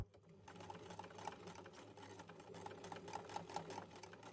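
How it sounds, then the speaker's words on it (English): A sewing machine stitches a fabric Easter bunny gift bag, a steady fast mechanical whir with quick regular needle clatter, quiet and close, running alone without voices. "let's take it over to the sewing machine."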